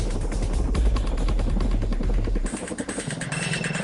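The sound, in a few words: CH-47 Chinook heavy-lift helicopter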